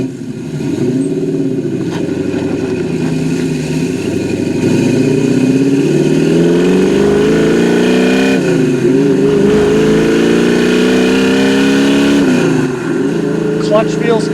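A 1967 Chevrolet Camaro engine drones steadily on a test drive, its pitch rising and falling as the car accelerates and shifts, loud and close throughout with road noise underneath.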